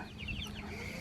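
Hens clucking inside a barn, a brief stretch of soft, overlapping clucks and chirps over a low steady background hum, fairly faint and close by.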